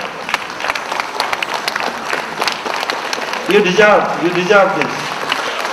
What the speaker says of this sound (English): I want everyone to give a loud applause